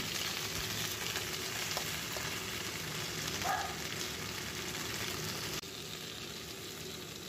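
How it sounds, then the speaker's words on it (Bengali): Vegetables seasoned with salt and a little sugar fry and are stirred in a pan, making a steady moderate sizzle with a faint scrape midway and a slight drop in level near the end. "সবজিগুলো আমি এভাবে একটু ভালো করে নাড়াচাড়া করে নিচ্ছি।"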